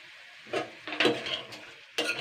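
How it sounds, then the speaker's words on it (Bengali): Tomato chutney being stirred in a pan, with several distinct scraping strokes of a spoon against the metal over a low steady sizzle, close and clear, and no voices. "ভালো করে কিন্তু নাড়াচাড়া করে নিতে হবে এটাকে"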